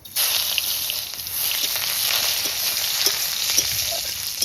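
Radhuni spice and garlic tempering in hot oil, a steady, close, bright sizzle and crackle of frying with faint stirring pops, no talking.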